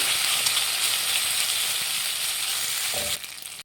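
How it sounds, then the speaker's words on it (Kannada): Pasta frying in a pan over a medium flame, a dense, even hiss of sizzling oil that stays loud throughout, then drops away abruptly at the very end. "ಇದೊಂದು 2 ನಿಮಿಷ ಮೀಡಿಯಮ್ ಫ್ಲೇಮಲ್ಲಿ ಫ್ರೈ ಮಾಡಿ"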